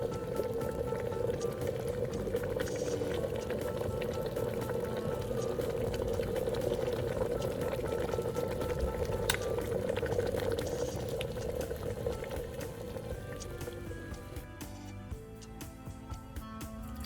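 Water boiling in a pot, a steady bubbling roll with a constant hiss and fizz that continues for the whole stretch and eases slightly toward the end, close and alone.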